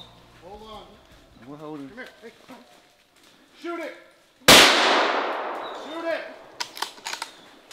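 A single loud gunshot cracks out at a bear during a hound hunt, its sharp blast and echo following scattered baying of hounds and quiet talk, with more barking and clatter afterward.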